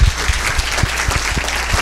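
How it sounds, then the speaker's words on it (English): An audience at a college award presentation gives a short burst of applause, with scattered individual claps standing out over a soft crowd wash. "let's give him a round of applause"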